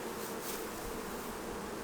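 Honey bees buzzing around hive frames with brood, a steady, even drone with no breaks.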